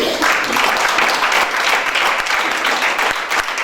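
Sustained applause from a church congregation acclaiming the Lord, a dense, even wash of many hands clapping close by, continuing steadily without pause.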